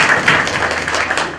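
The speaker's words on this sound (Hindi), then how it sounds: "ताली बजाएं।" An audience at a student award ceremony at a computer centre claps in a brief, even burst of applause that stays fairly loud throughout.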